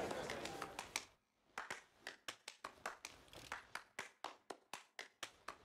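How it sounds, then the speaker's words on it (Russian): Faint, steady clapping by a single pair of hands in The Witcher 3: Wild Hunt, a regular rhythm of claps over a quiet background. "Ой, кто-то хлопает в одиночку."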